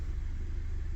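A 2006 Honda Civic engine idling after a remote start, heard as a steady, close, low rumbling hum with no revving.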